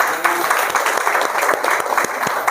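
A crowd at a talk claps together on request, loud, dense applause with a few sharper individual claps standing out, filling the whole moment.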